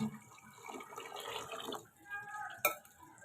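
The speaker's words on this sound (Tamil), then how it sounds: "இப்போ இதில் புளி தண்ணி ஆட் பண்ணிக்கலாம்." Tamarind water pours into a pan of frying masala for a traditional Tamil kola fish curry, a soft steady splashing and sizzle lasting about two seconds, followed by a light clink of a utensil.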